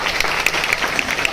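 A room of people bursts into brisk, continuous clapping for students during an interactive session at Hansraj College, dense and close throughout.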